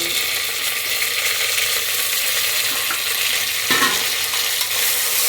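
Crushed ginger sautés in a pan for mutton kuzhambu, a steady close sizzle of frying broken by a brief scrape of the spatula partway through.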